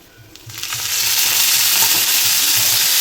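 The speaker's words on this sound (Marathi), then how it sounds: "आणि हे गॅसवर मी कढईमध्ये भाजते" Cluster beans hitting hot oil in a kadhai on a gas stove, swelling quickly into a loud, steady, hissing sizzle that holds for the rest of the moment, with a faint rhythmic low thump underneath.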